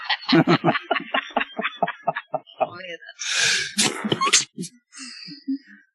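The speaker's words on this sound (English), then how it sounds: "That was me holding back an atrocious sneeze." A stifled, held-back sneeze bursts out as a short, muffled rush of breath, preceded by quick throaty gasps and snickering sounds.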